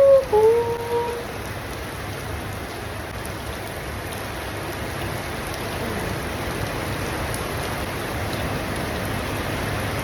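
Heavy rain pours down in a steady, dense hiss throughout, with a brief voice at the very start before the downpour carries on alone.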